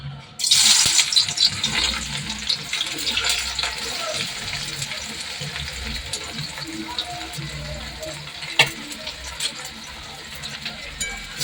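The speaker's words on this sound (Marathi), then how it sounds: "यामध्ये मी तेल गरम करून घेतलं आहे आणि याच्यामध्ये मी कांदा आणि काजू टाकून घेते" Onion and cashews drop into hot oil with a loud hissing burst that settles into a continuous, fainter sizzle, while someone talks throughout.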